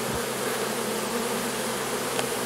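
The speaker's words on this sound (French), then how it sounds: "Là, il y a encore des abeilles de partout." A huge honeybee swarm hums outside a house near a Dadant hive, a dense, steady buzz of many bees close by, continuous and unbroken with no voices.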